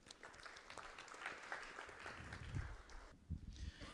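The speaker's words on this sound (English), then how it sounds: "Huge round of applause," An audience at a tech conference sponsor slot applauds with quiet, dense clapping that continues for several seconds, faint and slightly distant.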